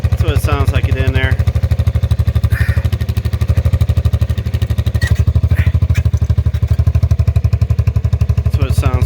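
A Badger 80cc motorbike idling with the exhaust silencer core fitted, heard as a close, steady, rapid putter with some mechanical clatter, while a voice talks briefly over it.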